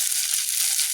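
Rice for nasi goreng frying in a hot pan outdoors in a garden, a steady close hiss and sizzle filling the moment without any talk.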